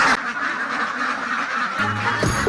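Ducks quack on an integrated duck and fish pond farm, a few short nasal calls rising over steady background noise, closer and clearer near the end.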